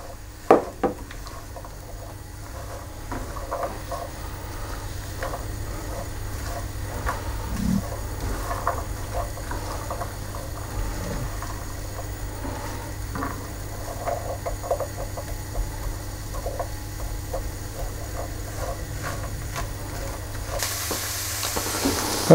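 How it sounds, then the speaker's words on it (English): Chopped carrots and onions sauté gently in melted butter, a soft continuous sizzle with occasional stirring scrapes and light pan knocks, faint and steady throughout, with a brighter hiss swelling near the end. "I'm going to tip the carrots and the onions in, and I'm going to saute them gently until they've started to soften"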